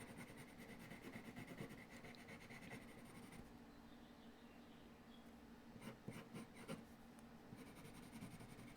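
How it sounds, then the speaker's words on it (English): A colored pencil scribbles on paper in a steady, soft scratching rasp, with a few quick sharper strokes near the end and no talk over it. "I'm just scribbling this, and this can be pretty messy."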